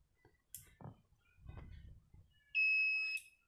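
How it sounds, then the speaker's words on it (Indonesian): A single loud, steady electronic beep from a custom alarm on a Honda CB150R motorcycle, lasting under a second, after some quiet shuffling sounds. "Maka alarm akan bunyi sekali dan lampu sen pun akan berkedip satu kali"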